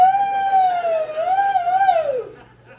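A voice imitates a siren with a rising and falling wail, sustained for a couple of seconds before trailing off.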